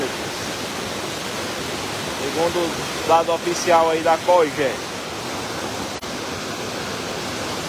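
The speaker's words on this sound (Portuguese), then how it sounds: "Muita água jorrando aqui no açude de Paulo Sarazate Uararas, no sangradouro aí" Heavy water rushing steadily over the spillway of the Araras (Paulo Sarasate) reservoir, a loud continuous broadband roar close by, with someone speaking briefly over it in the middle.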